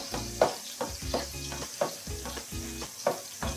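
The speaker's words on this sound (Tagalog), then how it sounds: "Medyo iba-brown lang natin itong ating bawang." Garlic browning in butter over low heat in a pan for carbonara, with soft sizzling broken by a string of knocks and scrapes from stirring, close and fairly quiet.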